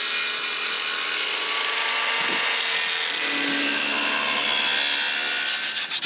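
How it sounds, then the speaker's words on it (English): Continuous coarse rubbing and scraping as a wood surface on a homemade boat rudder is roughed up by hand before gluing, close and steady for several seconds with no talk. "I'm just scratching it and roughing it up"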